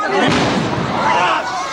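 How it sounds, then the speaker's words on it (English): A bomb blast in December 2001 news footage bursts loud and close, then rolls into a long, heavy rumble over about two seconds, with faint voices mixed into the roar. "A third explosion."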